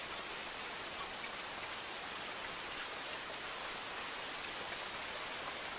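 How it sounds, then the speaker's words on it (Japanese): Steady rain falls in the anime Dororo, a dense, even hiss of drops that continues unbroken and fairly loud throughout, with no voices over it. "雨を聞いてるんじゃないかしら。"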